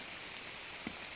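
Heavy rain pours steadily while someone climbs an expert-level mountain, a soft continuous hiss with a single brief thud near the end, fairly faint and with no voices.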